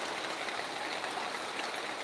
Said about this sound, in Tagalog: Lakas po ng ulan dito.